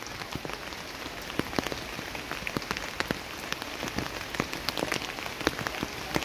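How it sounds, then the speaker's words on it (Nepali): Steady rain pours down, a dense, even patter of drops with sharper individual hits scattered throughout, close and continuous, with no voices. "साथीहरु पानी परिरहेछ है यहाँ चाहिँ"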